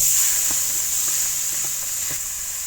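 Onion, garlic and green chili frying in a pan of oil with cumin, a steady close sizzle with a few soft stirring knocks.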